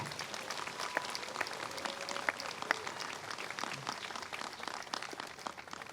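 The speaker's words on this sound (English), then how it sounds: "So how about a round of applause for our faculty, staff, and our alumni?" Graduates and guests at a 2024 DePauw University commencement ceremony applaud faculty, staff and alumni. The clapping is steady and moderately distant throughout, with a soft, washed texture and no talking over it.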